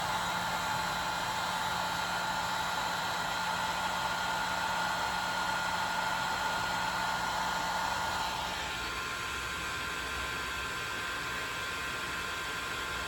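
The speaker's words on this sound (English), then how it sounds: "take your heat gun and work it around the center where the little silver thing is" A heat gun blows steadily on a heat-shrink wire connector while a 1968 Camaro's temperature sensor is wired to the body harness. It gives a constant airy whoosh with a motor whine, and the tone shifts slightly near the end.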